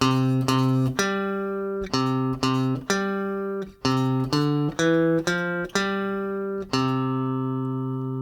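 Guitar riff played on C, a fifth above G, with clean sharply plucked notes and strong sustained harmonics in a repeating rhythmic pattern of quick attacks, loud and close with no talking.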